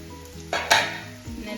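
Chicken liver frying in a pan gives a soft steady sizzle with a brief louder crackling burst in the middle, close and quiet, with no talk.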